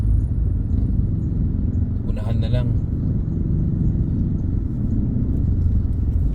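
Congested road traffic in Talavera, Nueva Ecija, heard as a continuous low engine rumble from cars and motorcycles, with someone speaking over it.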